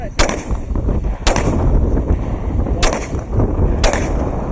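Four sharp, loud handgun shots crack out at uneven intervals at an outdoor shooting range in Fowlerville, Michigan during a concealed carry training class, over a steady background rumble.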